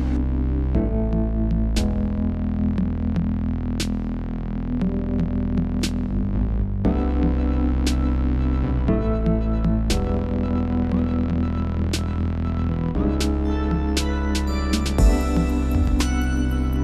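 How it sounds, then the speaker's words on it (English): A CNC router carving a log into 3D art, giving a steady loud throbbing machine hum with periodic sharp clicks and slight shifts in pitch as the cut continues. "now I'm going to run the program to machine this now down the rest of the way"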